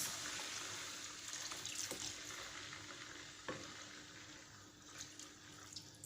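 Water splashes into a hot frying pan of salmon creamy butter sauce, setting off a continuous bubbling sizzle with scattered pops and a few clinks, fairly quiet overall.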